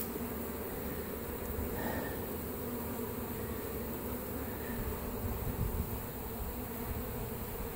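Honeybees buzz continuously during a cut-out of a colony from a bird house in Lakeland, Florida: a dense, even hum that holds steady throughout, with no talking.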